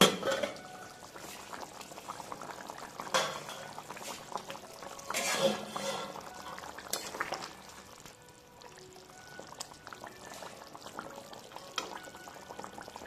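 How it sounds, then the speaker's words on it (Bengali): Potatoes cooking in water in a covered pot for a Bengali katla kalia fish dish, faint watery pouring and bubbling with occasional clinks of pots and utensils. "এবার পরিমাণ মতো জল দিয়ে আমি সেদ্ধ করে নেবো আলুটাকে"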